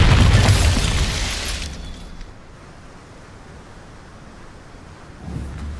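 A Bombarda spell blast in Hogwarts Legacy, a loud booming burst with crackling debris that fades over about two seconds into a quiet lull, followed by a faint rise near the end.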